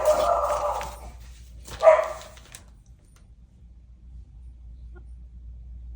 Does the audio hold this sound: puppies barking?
yes